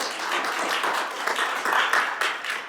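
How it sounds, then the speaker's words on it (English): An audience at a meeting claps for a colleague who has just earned her doctorate. The applause is brief and steady, a dense patter of many hands heard alone with no talking. "that's worth a clap"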